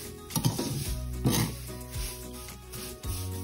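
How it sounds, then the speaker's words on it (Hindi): Vermicelli being roasted on a very low flame and stirred in a pan for a sweet Indian dessert, with quiet scraping, clinks of a spoon against metal and a faint sizzle in irregular strokes. "तो मैंने इसको एकदम लो फ्लेम पे रोस्ट किया है।"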